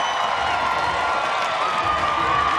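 A stadium crowd at University Stadium cheers after a Wilfrid Laurier Golden Hawks touchdown against the Western Ontario Mustangs in a university football game. The roar is loud, dense and sustained, with shouts rising from the mass of voices.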